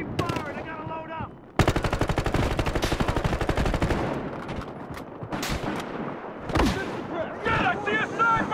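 Machine gun fire in the video game Battlefield Hardline: a loud, close rapid burst lasting a few seconds, followed by scattered shots and other game noises, with voices at the start.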